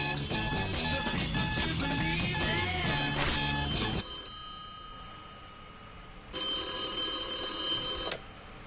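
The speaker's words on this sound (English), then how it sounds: "Just answer the phone." A telephone bell ringing loudly in a room, a long jangling ring over music-like tones that stops, then after a short pause a second ring burst of about two seconds.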